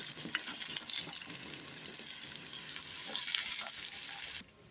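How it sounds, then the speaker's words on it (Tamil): Ingredients for mutton kola sauté in a pan with a continuous crackling sizzle and stirring scrapes, close and quiet, then the sound cuts off abruptly at the end. "நமக்கு நல்லா வதங்கிருச்சு பாருங்க எவ்வளோ நல்லா வதங்கிட்டு இருக்குன்னு"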